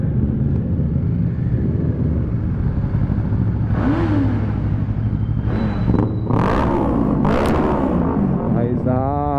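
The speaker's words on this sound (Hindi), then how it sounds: "यही तो मजा है एग्जॉस्ट का" A sport motorcycle, an Apache RR310 or Kawasaki Z650, revs its exhaust on the highway in loud rising and falling sweeps over constant road rumble, while people talk and shout excitedly over it.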